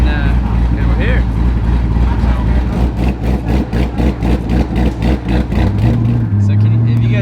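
A C6 Corvette Z06 with an aftermarket cam idles loud and close, its lumpy, uneven rumble pulsing steadily while it sits, and the pitch shifts near the end.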